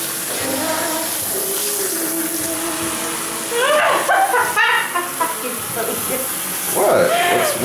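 Cold tap water running steadily into a hair salon sink, a constant hiss and splash filling the background while voices talk over it.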